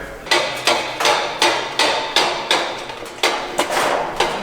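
Loud, close hammer blows strike metal at a steady rhythm, about a dozen sharp ringing impacts, while a BMW engine is being dismantled.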